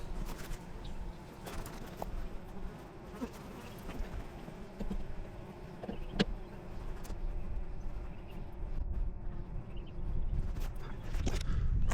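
Honey bees buzz around a newly installed hive from a first nuc at a backyard apiary, a steady low hum that builds slightly over time, with faint footsteps and rustling nearby.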